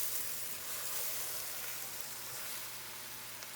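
Vegetables for a seafood gumbo sizzling in a pan: a steady, close hiss of frying that stays even throughout and then eases off slightly toward the end.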